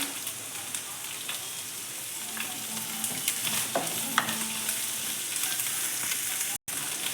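Egg bhurji frying in a pan with a constant, close sizzle and repeated scraping stirs of a spoon against the pan, with a brief dropout near the end; no talking.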